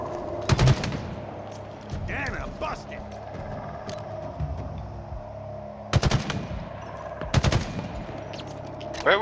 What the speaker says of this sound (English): Hey, who's shooting me?